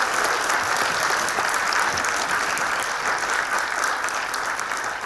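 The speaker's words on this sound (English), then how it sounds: "And so another huge round of applause for all of our supporters" A large audience at an awards show applauds supporters in sustained, dense, steady clapping that stays loud and even throughout, with no voices standing out.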